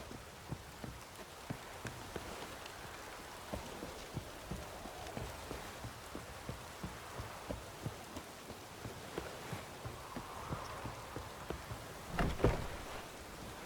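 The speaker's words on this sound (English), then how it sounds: "Looks like rain." Steady rainfall in The Witcher 3: Wild Hunt, a quiet, continuous patter of drops on surfaces with a faint regular thumping beneath it throughout.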